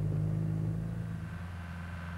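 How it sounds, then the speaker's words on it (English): Steady mid-pitched engine drone of an ATV towing a trailer off-road, a constant close rumble with a slight easing in level, no voices. "You can tow the trailer behind an ATV, like this"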